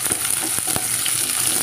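Onion and garlic sauté in sesame oil, giving a continuous close sizzle broken by a few short spatula scrapes and taps; no one talks.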